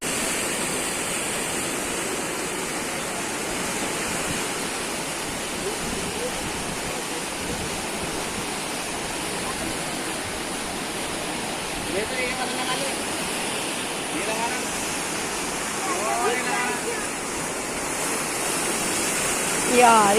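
Rushing river water at the Devprayag confluence of two rivers in the mountains, a steady broadband roar that holds throughout with no break.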